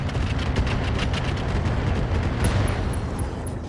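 Salvo of LRM missiles fired indirectly by a mech in Roguetech, a dense rapid series of whooshing launches and booming rumble, loud and continuous throughout.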